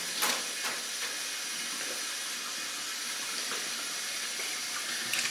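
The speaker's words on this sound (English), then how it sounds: "Now we're going to rinse the meat to get rid of as much fat as possible." Tap water runs steadily into a sink while meat is rinsed to remove fat, a continuous close hiss and splash with brief louder spatters near the start and end, no talking.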